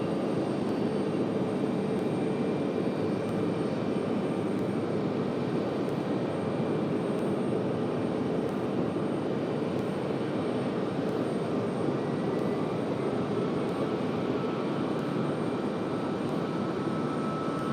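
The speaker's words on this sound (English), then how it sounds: "There is Aer Lingus." An Aer Lingus airliner at Raleigh-Durham airport, a steady, broad jet engine roar and hiss held evenly at moderate distance throughout, with no talk.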